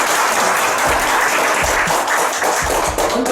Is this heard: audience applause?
yes